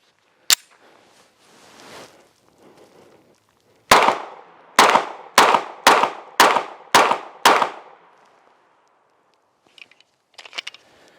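A Canik TP9SA pistol fires hollow point rounds: one sharp, close report, a pause, then a rapid string of seven loud cracks with ringing tails, then quiet.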